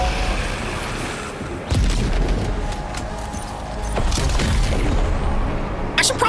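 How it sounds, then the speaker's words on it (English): Loud, heavy booms of grenade launcher explosions in the Death Stranding 2 video game. Several rumbling blasts arrive in bursts over dense game noise, and no one talks. "I don't know why I'm still in grenade launcher mode."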